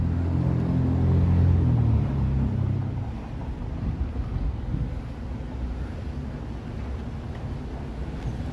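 A loud motorcycle passes on a downtown Toronto street, its heavy engine rumble strongest in the first few seconds before fading into traffic noise and wind buffeting.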